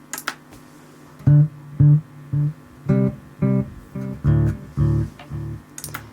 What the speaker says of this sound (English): Then from there we've got a digital delay which sounds like this.